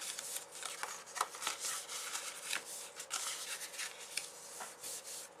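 Crisp paper creasing and rubbing sounds as paper is folded along score lines, a series of short scraping strokes, close up and fairly quiet, with no talking.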